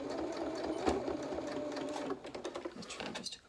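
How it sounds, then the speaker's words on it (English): Sewing machine stitching a short seam forward and back on a doll's polka dot dress, a steady close mechanical whirr with a rapid needle rhythm that stops into a few slower clicks at the end. "Literally just a couple of stitches forward, a couple of stitches back, and it'll just hold it down for you."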